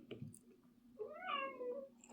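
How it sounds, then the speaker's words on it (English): A house cat meows once in a clear, drawn-out, rising-then-falling call, fairly close and loud after a brief quiet moment, with no talking over it. "that was my cat"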